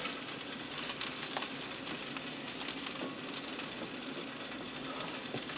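Bacon cheeseburger sizzling on a grill: a continuous crackling hiss with scattered small pops, moderately quiet and heard alone.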